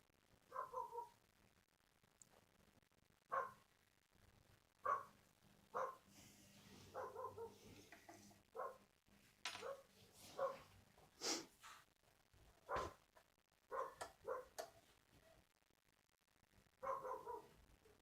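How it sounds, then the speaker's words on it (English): Dogs bark outside at a distance in faint, irregular bursts scattered across a quiet indoor background, some barks coming in quick pairs. "Some darn dogs barking out there."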